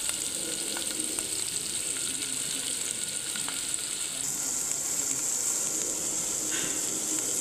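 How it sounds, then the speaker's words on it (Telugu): Salted fish frying in a pan, a continuous dense sizzle and hiss with a few faint clicks and a brief utensil touch, steady and close with no voices. "ఉప్పు చేపలు వేస్తున్నాను."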